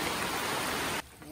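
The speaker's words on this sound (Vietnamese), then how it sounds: "trời mưa quá trời luôn rồi." Heavy rain falling in a forest, a dense and loud steady hiss of downpour up close that cuts off abruptly about a second in, leaving quieter background.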